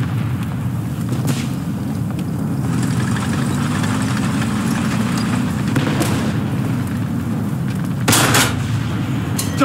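Game combat in War Thunder with an M4A3 tank, where a constant engine rumble runs beneath a few sharp cannon blasts and bursts of gunfire, the loudest one coming near the end.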